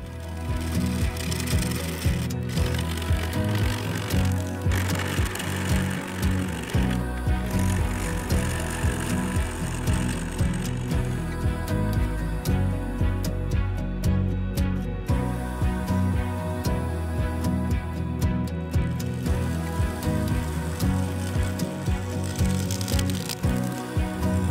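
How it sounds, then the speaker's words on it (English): A carbide cutter works the side of a yew and orange resin vase spinning on a wood lathe, giving a continuous, rhythmic mechanical whirr with scraping that runs unbroken throughout. "I used the carbide cutter to remove the high spots on the side."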